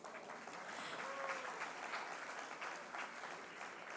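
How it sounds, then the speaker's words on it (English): An audience at an indoor speaker event claps steadily for a few seconds, a dense, even patter of applause heard from a moderate distance. "Round of applause, please."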